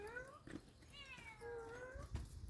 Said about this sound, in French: c'est un chat causeur